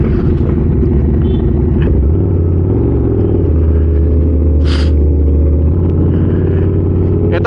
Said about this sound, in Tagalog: V-twin engine kasi, kaya medyo talagang Harley Davidson tunog nito.